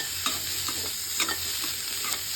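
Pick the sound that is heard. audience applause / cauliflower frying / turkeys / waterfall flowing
cauliflower frying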